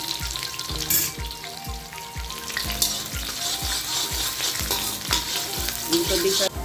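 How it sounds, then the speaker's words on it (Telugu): Chopped shallots, ginger and green chillies frying in hot oil, a steady close sizzle with rhythmic scraping knocks of a spoon stirring the pan. "ఇప్పుడు చిన్నులపాయలు వేస్తున్నాను, సన్నగా తరిగిన చిన్నులపాయలు, అల్లం ముక్కలు, పచ్చిమిర్చి ముక్కలు. ఇదంతా 1 నిమిషం ఫ్రై చేద్దాము."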